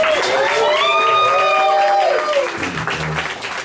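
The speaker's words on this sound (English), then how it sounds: "Can we get a big round of applause for our competitors?" Audience at an awards night for glassblowing competitors claps and cheers loudly in a sustained burst, with whoops and shouted voices riding over the clapping before it thins out near the end.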